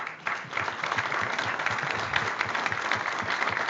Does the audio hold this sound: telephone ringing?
no